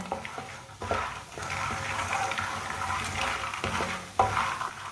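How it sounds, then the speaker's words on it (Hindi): Fox nuts (makhana) roast in a pan while a spoon stirs them, giving a continuous dry rustling, scraping sizzle with a couple of sharper knocks of the spoon against the pan. "फुल मखानों को चम्मच चलाते हुए पकाना है, ऐसे नहीं भूनना।"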